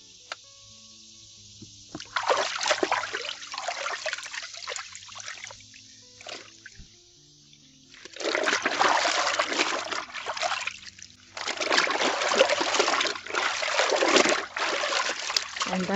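Soapy water drips and trickles from hand-washed white jeans as they are wrung out by hand, close and moderately quiet, with splattering bursts in several waves separated by softer lulls and no talking.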